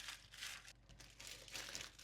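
Crinkly plastic piping bag twisted closed around ladyfinger batter, giving close, faint crackling bursts in short uneven rounds, alone without talk.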